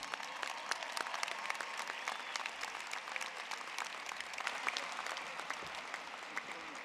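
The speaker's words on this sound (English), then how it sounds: "Everybody give them a round of applause." A large audience at a health professions graduation ceremony applauds steadily, a wash of many hands clapping with a few sharper claps standing out, moderately distant and unbroken throughout.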